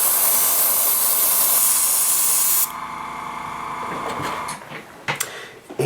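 Color is sprayed onto a foam model plane in a loud, steady hissing burst lasting over two seconds. It stops abruptly and is followed by quieter handling sounds and a couple of light knocks nearby.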